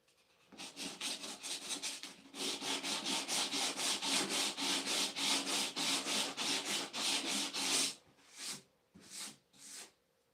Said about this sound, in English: Got some sanding tool here.